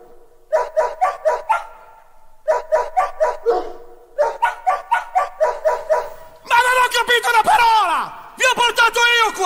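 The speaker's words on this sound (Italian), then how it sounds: "Il cane, The Dog." Dog barks come in quick rhythmic groups, repeated like a looped sample within an Italian comedy dance mix, then give way to a longer, sliding whine-like yelp near the end.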